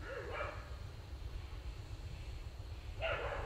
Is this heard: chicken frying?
no